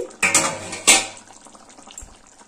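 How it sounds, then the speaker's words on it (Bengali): A lid comes off a cooking pot of simmering turnip or kohlrabi dum on a low gas flame, giving two sharp metallic clanks close by followed by a soft lingering ring and quiet kitchen noise, with no talking. "আবারও 5 মিনিট হয়ে গেছে, আমি ঢাকাটা খুলে দিচ্ছি।"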